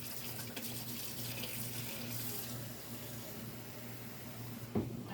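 Cold water runs steadily from a kitchen tap into a sink, a continuous close rushing stream that holds for several seconds and ends with a brief clunk.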